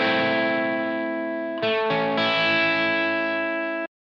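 Guitar through a Uni-Vibe model on a Line 6 Helix with intensity turned fully down, holding sustained distorted chords that change twice, only a faint modulation, loud and alone before cutting off abruptly.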